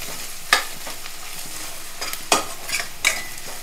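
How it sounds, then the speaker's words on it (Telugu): Chilli powder and spices fry in a pan, a close, steady sizzle broken by three sharp utensil scrapes and stirs at uneven intervals, with no talking. "బాగా వేపుతున్నాను ఇంకొకసారి."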